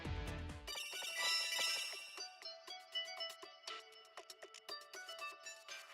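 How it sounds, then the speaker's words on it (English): A phone rings inside a video game, a bright repeating electronic trill that opens after a brief low thump and keeps chiming in quick pulses, loud and close, with no talk over it. "Oh, is this his phone?"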